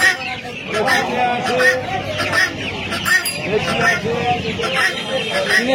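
Clucking and squawking from Australian chickens fills a crowded hen market, bursts of bird calls repeating near and loud over a steady babble of talking voices.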